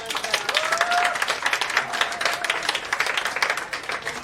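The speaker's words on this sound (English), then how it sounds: "Let's give her a big round of applause." Audience applause at a healing practice training session, a full round of dense clapping that holds steady and loud for several seconds, with a faint voice briefly audible near the start.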